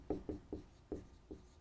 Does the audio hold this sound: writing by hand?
yes